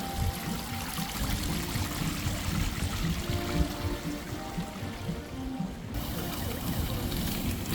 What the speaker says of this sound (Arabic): المهم ان انا عجبتني جدا جدا شلالات المية دي